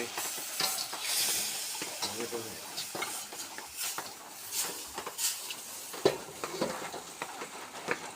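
Salted mackerel stir-fried with holy basil sizzles steadily in a hot pan, punctuated by close, repeated scrapes and clatters of a utensil against the pan.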